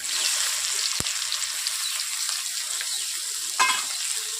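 Chopped onions frying in a pan with crushed cloves, cinnamon and cardamom, a steady close sizzle with a single sharp knock and a brief scrape partway through.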